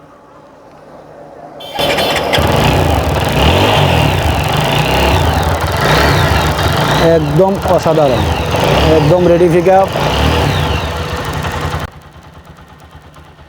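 A used motorcycle at a second-hand bike dealer starts and runs steadily, loud and close, with a couple of throttle revs near the middle before it cuts off; someone speaks briefly over the engine.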